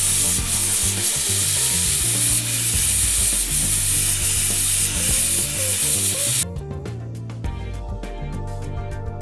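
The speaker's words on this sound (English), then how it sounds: "Hook it up to the air compressor, and let's get started with the sandblasting." Steel grit blasted by an air-compressor sandblaster against a rusty bicycle chain makes a loud continuous rushing hiss with gritty scraping for most of the stretch, then drops abruptly to a quieter, rattling texture near the end.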